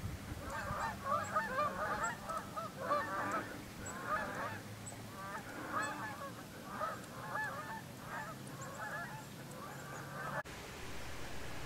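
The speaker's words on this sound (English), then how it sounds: "The honking can be heard for miles as it draws in more flocks along the way." Canada geese honking in flight, a flock calling over and over in dense, overlapping honks that keep up steadily throughout at moderate loudness, with no voices.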